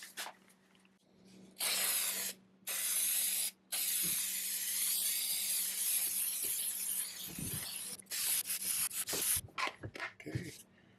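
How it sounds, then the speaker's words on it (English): Short blasts of compressed air hiss loudly in several bursts, some long and some quick, to blow dust off a wooden LED wall sconce before shellac, with faint handling noises between them. "Let's blow any dust off of it."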